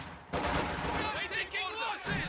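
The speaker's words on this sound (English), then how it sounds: "Mortars raining down here on the centres." Mortar fire in a strategy war game, with two mortars on auto fire shelling a position, comes as repeated bursts of explosions and impacts mixed into dense battle noise, with a commentator talking over it throughout.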